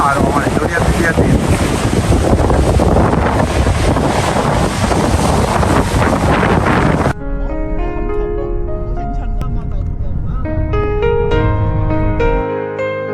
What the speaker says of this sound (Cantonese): 哇，好大浪啊！